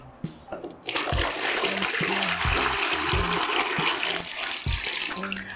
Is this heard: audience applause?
no